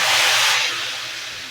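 A loud burst of sizzling hiss as hot oil tempering with golden onions hits cooked urad and chana lentils, strongest at first and then fading into a softer steady sizzle.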